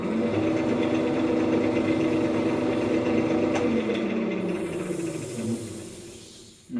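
A wood lathe spins a rough-turned common oak bowl with a steady, loud whirring hum. Near the end it winds down and fades.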